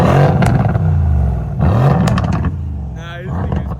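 A Mercedes C63S V8 with its mufflers cut off revs in loud, deep bursts, each rising and falling, with a brief crackle between them, heard close.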